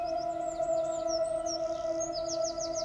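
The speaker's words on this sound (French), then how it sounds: "Il y a des oiseaux dans le ciel." Small birds chirp in a grassy meadow, quick light tweets scattered over a steady, sustained musical drone, all fairly quiet.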